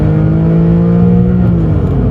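Porsche 911 996 4S accelerating hard, its engine note loud and close, rising steadily in a continuous strong drone.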